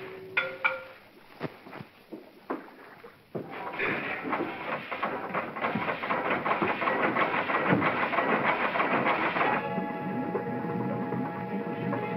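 A boat's engine starts up after a few faint knocks, then settles into a steady, loud mechanical rumble with rhythmic clattering that carries through to the end.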